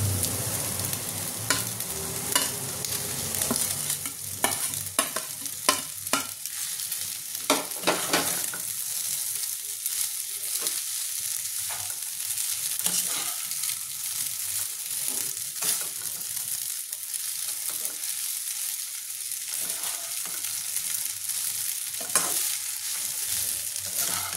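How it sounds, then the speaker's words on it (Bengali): Chow mein noodles stir-fried with chicken and capsicum in a hot pan, a steady sizzle broken by scraping spatula strokes, close and continuous with no talking. "এবার আমি চাউমিনটা ঢেলে দিচ্ছি।"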